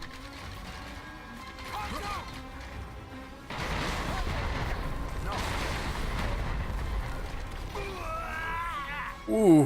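Cannon blasts from the beetle-like boss Omega in Final Fantasy XV: heavy booming explosions with crashing rumble, mixed with game music and a short voice exclamation, ending in a loud hit.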